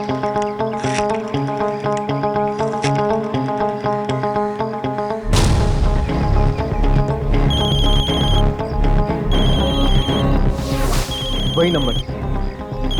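A mobile phone rings with a bright repeating electronic ringtone, loud and close, cutting in over tense music in a dim, run-down house, as a voice speaks briefly.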